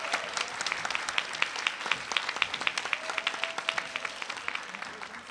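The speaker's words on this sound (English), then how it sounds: "Please give her a warm round of applause." Warm applause from a teachers' union state convention crowd, with individual claps standing out as sharp distinct hits over a thinner wash of clapping that continues steadily.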